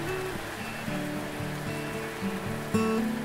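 Rain falls steadily on surfaces in the hill town of Mandi, Himachal Pradesh, a constant wash of patter with tonal hum and a brief bump near the end, no talk.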